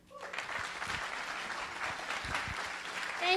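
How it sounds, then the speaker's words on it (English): An audience at a Taiwan tech summit forum breaks into applause, a steady wash of clapping that rises quickly from the start and holds evenly. "hope everybody can give her a very warm applause"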